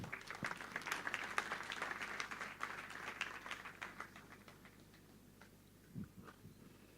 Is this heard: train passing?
no